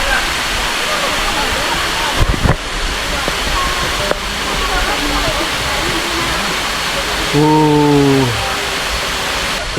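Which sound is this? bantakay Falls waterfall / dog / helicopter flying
bantakay Falls waterfall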